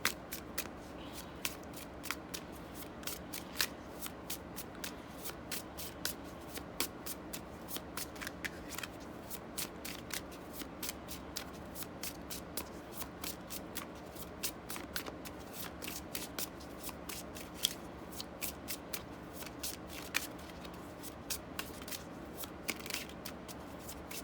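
Tarot and oracle cards being shuffled by hand, a long run of quiet, rapid riffling and crisp card snaps repeating at an irregular pace, close and soft, with no talk over them.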